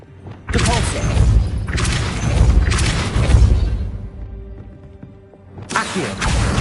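Depulso spell cast in the video game Hogwarts Legacy, a few heavy booming thuds with crashing bursts, loud and close, separated by short pauses.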